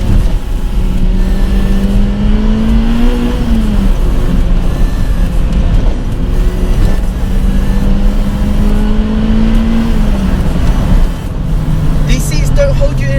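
A Toyota Celica Sports M engine hums and climbs in pitch, then drops and rises again as gears change, heard from inside the cabin with a voice talking over it.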